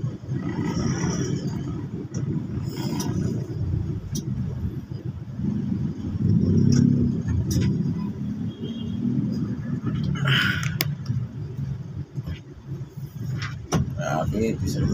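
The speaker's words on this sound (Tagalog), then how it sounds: "Talagang napaka-traffic na." Morning road traffic in Pasig on the Santolan route, heard from inside a vehicle as a steady engine rumble and passing cars, with occasional rattles and clicks, and someone talking throughout.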